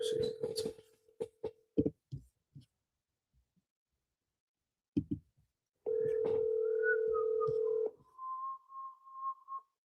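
A voicemail system sounds its recording tone: a steady electronic beep of about two seconds, preceded by sparse clicks and short bursts of sound, and followed by a fainter wavering tone.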